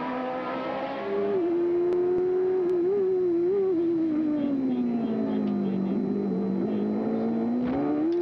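A 1991 CART Indy race car engine drones loud and steady through a turn on the Detroit street circuit, its pitch falling as it brakes and then climbing again as it accelerates out.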